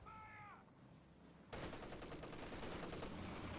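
Sustained automatic MG34 machine gun fire in Company of Heroes 2, a dense rattling burst that starts abruptly partway through and continues loud to the end, with faint bird-like calls early on.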